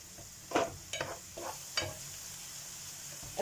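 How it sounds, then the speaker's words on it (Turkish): Onions frying in a pan, lightly salted, with a soft steady sizzle under a few brief scraping stirs near the start. "Evet, soğanımız kavruldu."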